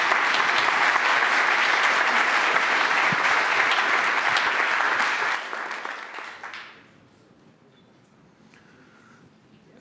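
An audience at an expo applauds its panelists, a loud steady burst of clapping from many hands that lasts about six seconds before fading out into a quiet room.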